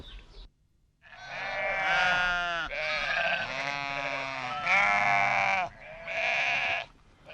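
A flock of sheep on a Moroccan livestock farm bleats in loud, overlapping calls, several long cries following one another closely and nearby, with no talking.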